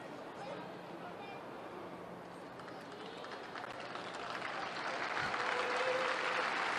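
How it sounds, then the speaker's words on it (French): The crowd at Stade Auguste Delaune applauds during a women's football match, a broad wash of distant clapping and murmur that swells louder toward the end, with a commentator's voice over it. "Les applaudissements du public"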